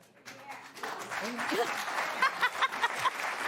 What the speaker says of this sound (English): They're clapping for Satan?